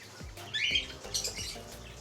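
A pet cockatiel beside its nest box and eggs lets out short, faint squawks and chirps, a few quick calls over quiet background.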